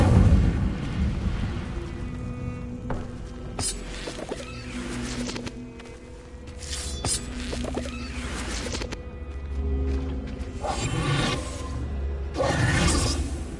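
In Hogwarts Legacy, the Incendio fire spell goes off as booming, roaring blasts over a constant layer of game sound. The louder bursts come near the start, the middle and the end.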